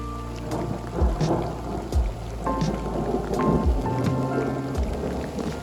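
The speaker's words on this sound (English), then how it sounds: "hear the thunder?" Deep thunder rumbles roll through a storm at Yosemite, with several low booms swelling and fading over steady rain and hail pattering close by. No one speaks.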